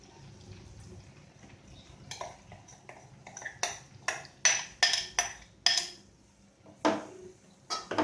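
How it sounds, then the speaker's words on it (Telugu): Yogurt mixture being stirred into a brinjal curry in a pan, with quiet wet mixing that builds into a series of sharp spoon clinks and knocks against the metal pan, close and unhurried, no voices. "ఒకసారి అంతా కలిసేలాగా కలుపుకోవాలి."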